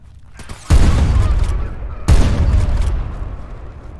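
Two heavy bursts of automatic gunfire in the video game Stalker Anomaly, each a sharp loud onset followed by a rolling crackle of rapid shots that slowly fades.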